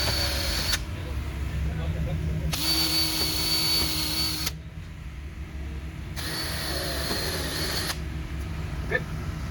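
A power drill drives screws into a fiberglass fixed door panel, with two sustained whirring bursts of a few seconds each, close and loud, separated by a steady low hum.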